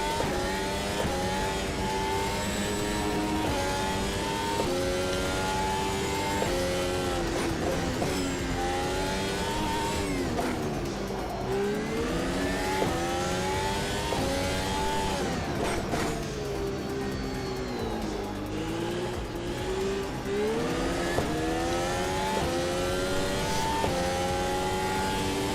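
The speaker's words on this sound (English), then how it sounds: "I'll just make one more lap because I like driving this car." A car engine in a racing video game revs hard through a lap, its pitch climbing and dropping with each gear change and corner in a loud, continuous drone with no talking.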